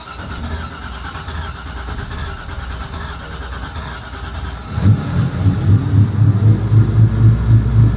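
A 5-litre V8 MerCruiser boat engine, heard as a low mechanical drone that swells to a louder, deeper, pulsing rumble as it starts up partway through, with no voices.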